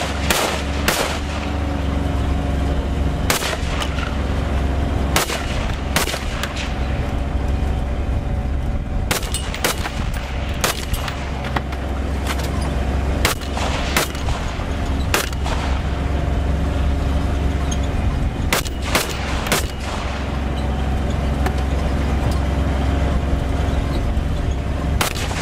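FS2000 bullpup rifle fired from a moving vehicle: sharp, loud gunshots ring out in irregular bursts and singles over a constant low rumble of the vehicle engine and road noise.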